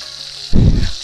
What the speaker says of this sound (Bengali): আর আমি এদিকে মাছটা কষছি।